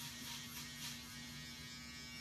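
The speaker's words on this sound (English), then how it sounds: "I'm going to go back through with the shaver" An electric shaver buzzes steadily during a men's grooming session, a close, continuous hum with a faint shifting texture as it works over the hair, with no talking.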